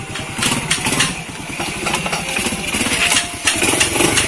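A Honda C70 motorcycle fitted with an EX5 cylinder head runs close by, a loud rapid chugging putter that rises and falls in revs, with voices talking briefly around it.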